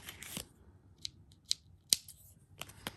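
Scissors snip through crochet yarn, giving several sharp, close cuts spaced irregularly over a quiet background.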